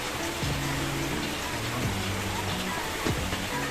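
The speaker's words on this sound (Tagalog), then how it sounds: "Medyo ulan pa ng konti." Steady patter of light rain on a house roof with a faint hiss, while a few soft tonal hums drift underneath.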